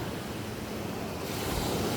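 Ocean surf rolls onto a New Jersey beach, a steady broadband wash of breaking waves with some wind rumble, continuous and fairly close, with no voices.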